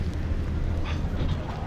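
Steady roaring wind buffeting the microphone while riding a ski lift at a deep-snow ski resort in Japan, a dense low rumble with no break, loud and close.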